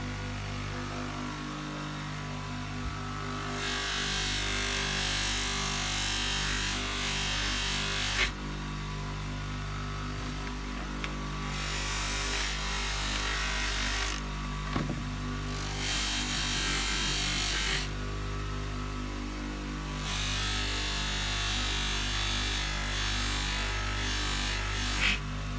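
A Sealey 150mm 370W 240V bench-mounted buffer and polisher working scratched aluminium, a loud steady motor whine and rub that comes in long sustained stretches, cutting out and starting again several times, close up and without talk.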